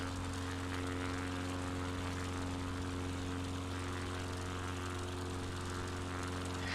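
Small Cessna propeller aircraft in Microsoft Flight Simulator 2020, a steady loud droning engine hum with strong tonal buzz, heard from inside the cockpit continuously and without change.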